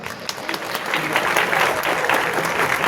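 Crowd applause welcoming the chief guest at a sports festival opening in Sambalpur, Odisha, a continuous clapping wash that swells slightly and holds steady for a few seconds.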